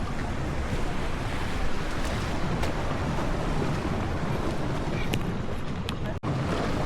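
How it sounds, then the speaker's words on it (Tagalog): Ocean waves crash and wash in a continuous roar at Dingalan Beach, Philippines, with gusty wind buffeting the microphone and no voices. "Hampas yan oh, hampas ng alon."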